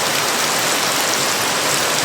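Heavy rain pouring down on a durian farm at Villa Consulta, a dense, steady roar of falling water filling the whole scene without a break.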